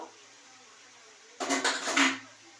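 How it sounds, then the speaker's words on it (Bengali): A lid is lifted off a cooking pot of prawns with onion stalks, tomatoes and potatoes, making a brief metallic clatter followed by a rush of steamy sizzling, all fairly close with no talk. "এবার একটু ঢাকনাটা খুলে দেখে নেব"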